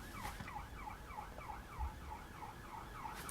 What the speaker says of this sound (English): I think the sirens are telling me it's time to finish.